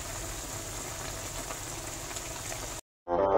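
Paksiw na bangus broth boils in a pot, giving a steady hissing bubble that continues evenly before cutting off abruptly near the end.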